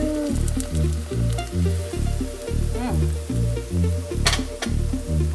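Vegan pancake batter fries in a pan with a steady sizzle, while a repeating low synthetic pulse of background music throbs underneath and a couple of brief clinks cut through.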